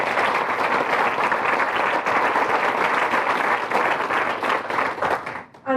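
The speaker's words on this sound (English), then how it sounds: "a special round of applause for them" A crowd at an Irish Rural Link gathering on changing rural Ireland claps steadily in a sustained round of applause lasting several seconds, dense and even, then fades out near the end.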